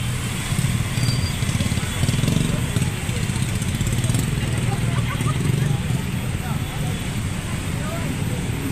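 Motorcycles crawl through a flooded, jammed road in heavy rain, their engines droning steadily under a constant wash of rain and splashing water, with voices talking throughout.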